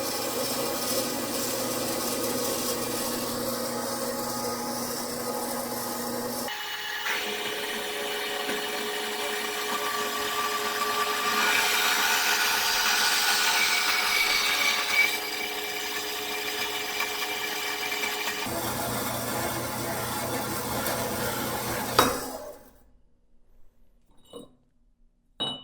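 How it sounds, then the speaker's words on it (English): A metal-cutting saw with adjustable blade speed and a hydraulic piston lowering its head runs with a steady, loud motor drone that shifts pitch partway through, then cuts off near the end, leaving a few faint clinks. "this has a hydraulic piston that will lower the saw head. I can adjust the speed in which it falls"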